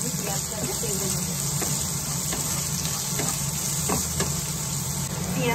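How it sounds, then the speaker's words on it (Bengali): Onion fries in a pan with a steady, even sizzling hiss close by, broken by a few faint pops and soft stirring knocks. "একটু ভালো করে একদম ফ্রাই করে নেবো, লাল লাল করে আমি পেঁয়াজটাকে ভেজে নেবো"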